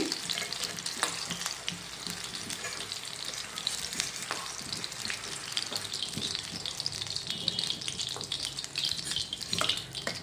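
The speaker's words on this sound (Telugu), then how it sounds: "పచ్చిమిర్చి కొంచెం ఎక్కువ వేసుకుంటేనే చట్నీకి బాగుంటుందండి ఇలా ఫ్రై అయ్యాక ఈ పచ్చిమిర్చి ప్లేట్లో తీసేసుకోవాలండి" Green chillies frying in hot oil for a tamarind chutney, a continuous close, fairly quiet crackling sizzle with small popping bursts and stirring, no voices.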